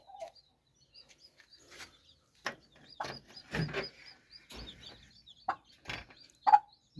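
Chickens and small chicks on a poultry farm give scattered clucks and short chirps at close range, with a few louder calls and knocks between quiet gaps.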